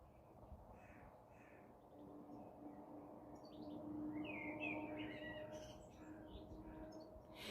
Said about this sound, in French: Et les deux corbeaux, vous avez fini de vous causer là?